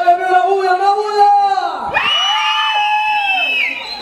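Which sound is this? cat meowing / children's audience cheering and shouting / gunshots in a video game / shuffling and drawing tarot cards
children's audience cheering and shouting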